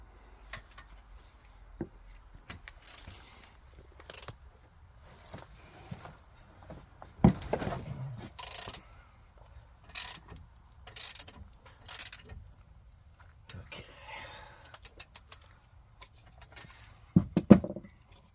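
Ratchet wrench clicking in bursts as it backs out 21 mm front brake caliper bolts on a 2012 Jeep Liberty, with scattered clanks of tools and metal between runs of ratcheting, close and fairly loud.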